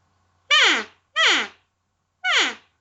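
Three short, soft elk calls from a call blown by a beginner, each a falling, whiny squeal about half a second long, close and clean with silence between.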